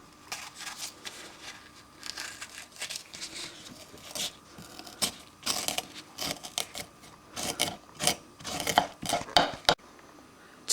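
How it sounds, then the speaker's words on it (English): Knife work on a board while chillies are topped, tailed and deseeded for red chilli jam, giving irregular clicks, taps and scrapes in close bursts with short pauses and no talking. "First thing to do is to top and tail the chillies and remove all the seeds"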